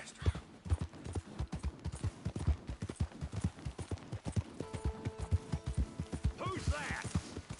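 Rapid rhythmic hoofbeats of a horse galloping in Red Dead Redemption 2, steady and close, with faint mechanical creaks and a brief tonal chime near the end.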